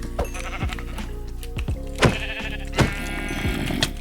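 Sheep bleat repeatedly in short, wavering calls in Minecraft, several overlapping, over a steady electronic hum, with no talking.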